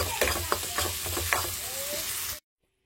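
Food sizzles lightly in a pan with steady frying crackle, punctuated by a few soft stirring knocks, before cutting off abruptly near the end.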